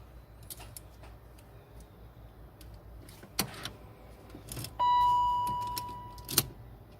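A car's electric window motor whirs steadily for about two seconds as the glass rolls down, close by, ending with a soft thud, with scattered clicks and knocks before it and no talk.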